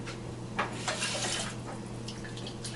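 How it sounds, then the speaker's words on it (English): Water poured into a cooking pot in a home kitchen, a soft continuous splashing trickle with small bursts, fairly quiet over a faint steady hum. "and add a little water."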